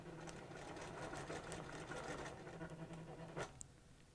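A sewing machine stitches a quilt seam in a steady fast whir of needle strokes, close and soft, ending with a couple of clicks and no talking.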